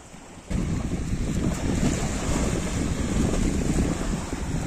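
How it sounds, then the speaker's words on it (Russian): Steady, roaring wind buffets the microphone outdoors by Lake Issyk-Kul, a constant broadband rush that swells slightly and never lets up. "дует ветер"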